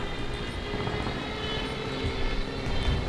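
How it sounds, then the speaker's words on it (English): Stuka dive bomber in War Thunder, a steady loud drone of aircraft engines with a rising wail, heard continuously without talk. "Definitely hear that Stuka."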